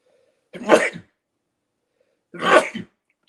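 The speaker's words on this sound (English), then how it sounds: "I notice a sneeze." Two short, sharp sneezes about two seconds apart, close by in an otherwise quiet room.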